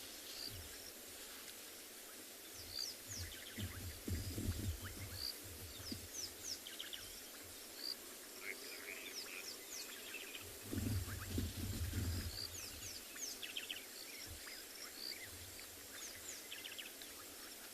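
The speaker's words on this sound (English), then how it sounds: "I can just hear a couple of birds calling," Faint scattered bird calls on a quiet savanna evening at sunset, including chirps and rattling notes over a low, steady background hush, with a few soft low thuds.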